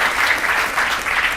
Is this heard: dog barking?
no